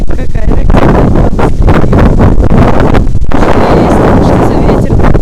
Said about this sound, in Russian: Тут такой ветродуй, на улице темно и страшно, если честно.